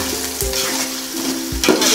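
Onion and green chilli frying in a pan, stirred for chicken biryani: steady close sizzle with scraping stir strokes and a few brief tonal clinks, loud and continuous with no talk.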